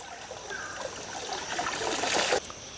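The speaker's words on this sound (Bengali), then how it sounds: "কি সুন্দর করে কাপড় ধুচ্ছে লম্বা করে মেলে দিল টেনে নিয়ে ধুয়ে ফেললে" Water trickling and splashing as clothes are washed by hand in a village pond, soft close splashes building toward a brief louder splash near the end, with no talking.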